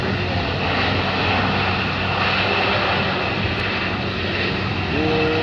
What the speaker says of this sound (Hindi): जेट इन्जिन त ऊ हाम्रो होला नि।